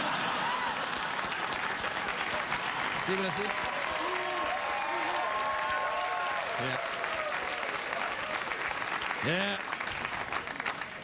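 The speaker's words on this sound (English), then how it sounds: "these are going to start clapping again." A television studio audience on a late-night talk show claps loudly and steadily the whole time, with brief voices talking over the applause.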